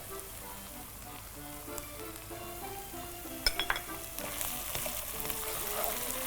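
Red pepper flakes, a little thyme and salt roasting in a hot pan give off a steady, close sizzle, with a few sharper stirring clicks and pops partway through.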